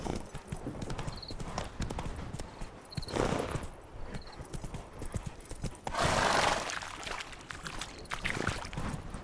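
Hooves of Roach the horse clip-clopping in The Witcher 3: Wild Hunt, Hearts of Stone, a steady galloping rhythm close by, with a whinny, splashing bursts and quiet game ambience.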